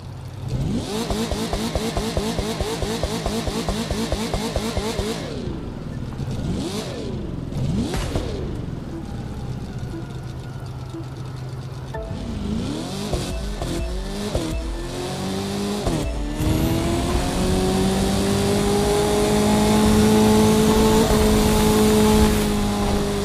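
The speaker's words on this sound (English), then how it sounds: "up next we will be doing the drag race event, which uses the exact same vehicle which we used for the speed trap" A car's engine revs and accelerates during a drag race event in The Crew 2, with loud rising engine tones, gear shifts and tire noise, steady and up close with no talking.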